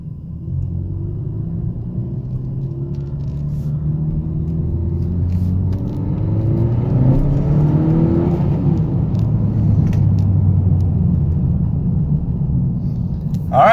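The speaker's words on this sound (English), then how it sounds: "we're going to do a few pulls here on this street" A 10th gen Honda Civic Si pulls hard down a street, its engine rumbling low then climbing steadily in pitch through the revs, heard from inside the car with no talking.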